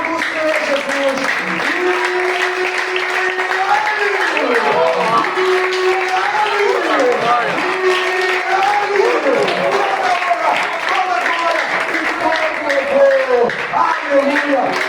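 A church congregation applauding during a Portuguese-language worship service, sustained clapping mixed with voices calling out, steady and fairly loud throughout.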